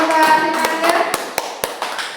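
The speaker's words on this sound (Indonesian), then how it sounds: "boleh beri tepuk tangan" Hand clapping at a school gathering: a few loud, separate claps rise over a murmur of voices and then give way to sparse single claps, with background chatter throughout.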